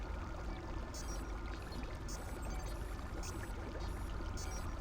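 A kolto tank draining in Star Wars: Knights of the Old Republic II gives a steady, dense rush of pouring water. It carries on unbroken, with faint bubbling flickers over it.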